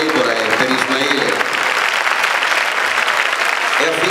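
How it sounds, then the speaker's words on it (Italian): A crowd at a charity evening in Frontino applauds loudly and continuously, with dense sustained clapping and voices audible underneath. "questo applauso è per Debora e per Ismaele."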